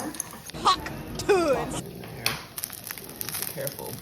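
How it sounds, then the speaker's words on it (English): Sardines frying in a pan, a moderate steady sizzle with spatula scrapes and pan knocks, plus a couple of brief squeaky tonal sounds over the cooking noise. "You know the sardines are about done when they start browning up a little bit"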